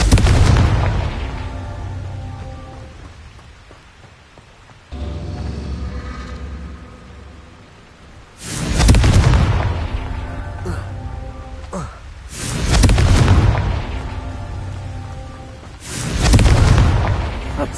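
Confringo blasting spells in a video game go off as a series of about four heavy, booming explosions at intervals, each a sharp loud burst fading into rumbling debris.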